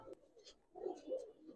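Giribaz breeder pigeons in a loft let out soft, faint, low cooing murmurs over a brief moment, close by and quiet.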